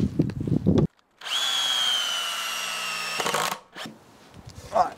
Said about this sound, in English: Now get a couple of screws into each corner to get this all locked together.